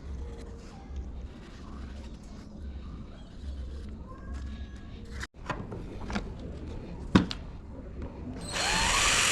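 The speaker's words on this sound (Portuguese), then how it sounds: "agora eu inicio os furos aqui onde eu fiz as marcações com a canetinha" A power drill bores holes into homemade propeller blades at marked spots, whirring steadily up close with sharp knocks and clatters between passes, and the motor surges louder at the end.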